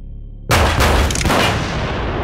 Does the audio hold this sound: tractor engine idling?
no